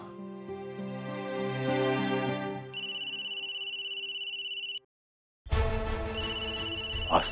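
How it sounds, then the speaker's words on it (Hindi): A phone rings late at night in a Hindi TV drama household, heard as a steady electronic ringtone with repeating tones over soft background music, fairly clear and loud, with no talking. "इतनी रात का है? आस्था का फोन?"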